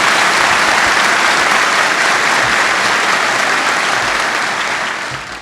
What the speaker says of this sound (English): Let's give a round of applause to Lieutenant Giorgio for running a wonderful ceremony.